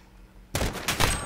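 Gunfire in Call of Duty Modern Warfare, a sudden burst of rapid shots that starts after a quiet moment and continues as a loud, close fusillade.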